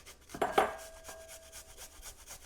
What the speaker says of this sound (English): I'm just going to grate it into the bowl here